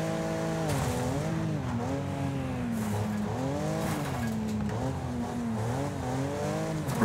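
Racing car engine in the game Wreckfest revs up and down in repeated waves as it corners and accelerates, loud and close, with faint tire squeal and no speech.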